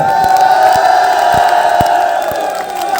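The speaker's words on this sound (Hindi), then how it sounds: "और तालियों के साथ थोड़ा हल्ला भी हो जाए तो मजा आ जाएगा" A large crowd at an outdoor rally for a local politician during a tricolour flag procession with tractors cheers and whoops loudly, a continuous roar of many voices with scattered sharp claps and a steady tone running underneath.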